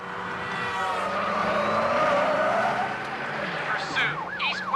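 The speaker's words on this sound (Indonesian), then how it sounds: "Daryl langsung membawa mobil itu melesat menghindari kejaran tentara" A car in a movie chase speeding away from pursuing soldiers, its engine whining and swelling close by while sirens wail and warble over the rush, with other sound effects mixed in.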